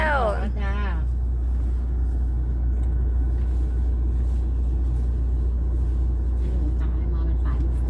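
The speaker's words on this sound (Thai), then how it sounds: "เห็นไหมครับสตาร์ทรถแล้วนะ" A used car bought from a second-hand dealership, its engine running with a steady low rumble throughout, while a voice speaks briefly near the start.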